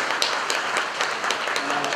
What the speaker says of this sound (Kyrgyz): Ошондуктан Дүйшөн мырзага дагы жолу кол чаап коюуга